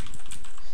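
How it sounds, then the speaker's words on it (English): A loud computer keyboard clatters with rapid, dense keystrokes, close and steady for under a second with no voice over it. "my keyboard, because my keyboard is loud"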